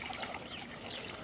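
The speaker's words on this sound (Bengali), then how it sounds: "এখন ওদের পানি দিই।" Water is poured out for goats on a small homestead farm, a continuous soft trickling splash that runs steadily through the short moment with no talking.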